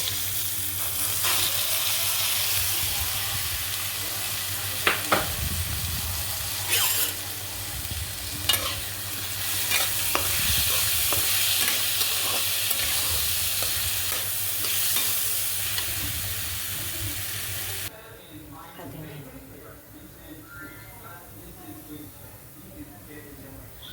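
Moong dal roasting and being stirred in a kadhai for a quick halwa, with a steady sizzle and scraping stirring strokes throughout, loud and close before the sound drops to a quieter, softer sizzle near the end.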